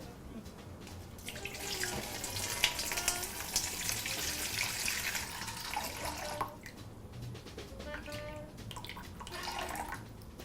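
About 850 grams of 72-degree water is poured into a container on a kitchen scale for baguette dough, making a steady splashing stream for several seconds that fades briefly, then returns more softly, with a voice faintly underneath.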